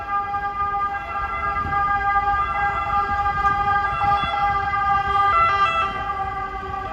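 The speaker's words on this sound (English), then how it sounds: "we're gonna wait and listen to their ambulance" A wailing ambulance siren on a Milan street with a steady two-tone pattern, loud and close, over low street traffic rumble.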